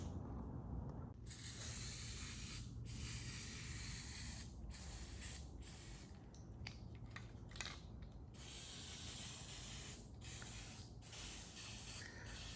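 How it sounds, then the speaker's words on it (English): An aerosol can of spray adhesive hisses in a series of short and longer spray bursts, close by and fairly loud over a steady background noise. "this spray glue, and you reckon that works much better than using white glue?"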